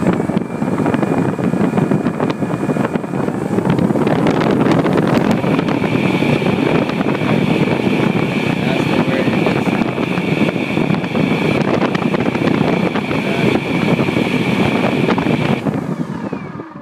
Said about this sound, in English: it's gonna make a weird engine sound